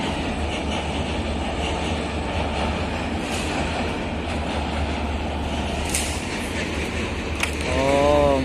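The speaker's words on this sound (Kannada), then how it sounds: "ಗಡಿಯಲ್ಲಿ ರೈಲು ಹೋಗ್ತಾನೆ ಇರ್ತದೆ ಈ ಬ್ರಿಡ್ಜಲ್ಲಿ." A train runs over a bridge with a loud, continuous rumbling roar near at hand, broad and unbroken throughout, with a faint tonal horn-like sound rising at the end.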